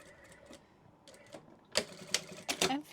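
Sewing machine stitching a seam on a fabric scrunchie: quiet, close bursts of rapid mechanical clatter, a few soft stitches at first, then louder rhythmic runs toward the end.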